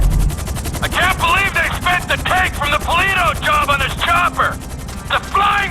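GTA 5 video game helicopter (chopper) in flight, a steady rapid rotor chop pulsing throughout, with loud bursts of game dialogue and effects layered over it.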